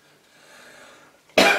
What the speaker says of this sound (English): Don't say that horrible cough's going to come back again